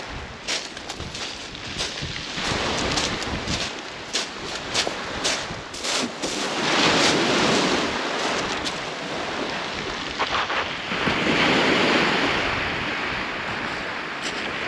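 Strong crosswind buffeting at a shore during sea fishing, a loud broadband roar with gusting swells and surf-like wash throughout, with no talk.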